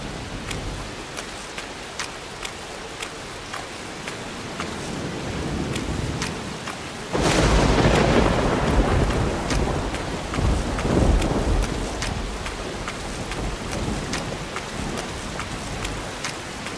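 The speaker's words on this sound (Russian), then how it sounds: "Сейчас когда будет молния и пойдет гром после нее." A thunderstorm by a lighthouse, with steady hissing rain throughout and a heavy roll of thunder bursting in midway, loud and close, then rumbling on and slowly fading under the downpour.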